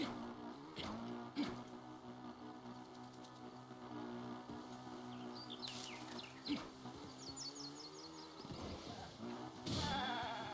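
Goats bleat in Breath of the Wild amid game sounds, several short wavering cries scattered across a busy background of clatter and effects, no talking.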